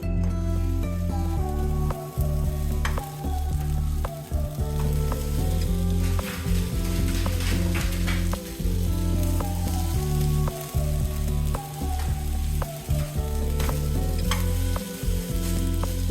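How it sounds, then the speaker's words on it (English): Sausages searing in a dry non-stick pan on the stove without oil give off a loud, continuous sizzle and spatter close up, with music playing underneath throughout. "So I'm just going to put my sausages one by one."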